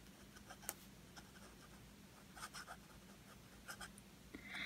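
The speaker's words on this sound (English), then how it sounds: "It's going to be slightly scratchy writing like this" A Waterman Charleston fountain pen scratches faintly across paper while writing in reverse, giving quiet, close, irregular ticks and short scrapes over a low room hum.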